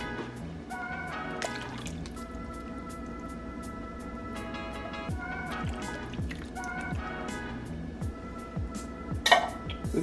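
Thick tomato sauce from two cans glugs and trickles into a pot of beef broth, a steady close pouring sound over faint background music.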